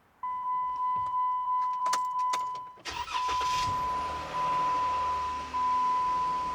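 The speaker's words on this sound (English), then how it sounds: "now we're gonna start the Jeep to check for any oil" Jeep engine cranking and starting after a DIY oil change, heard close up: a steady tone and a few clicks, then the starter whirs and the engine catches and settles into a steady idle.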